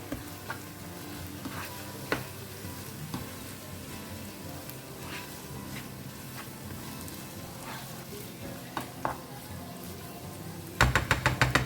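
Chopped squid and prawn stuffing stirred in a hot pan, a continuous soft sizzle broken by sharp spoon scrapes and clinks at irregular intervals, ending in a burst of louder crackling.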